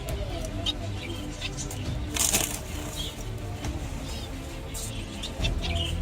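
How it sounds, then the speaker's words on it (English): Bengalese finches being released into a new garden aviary. Faint, scattered chirps and some fluttering over a steady rustling background, with no talking. "This is the release of my Bengalese finches into their new home."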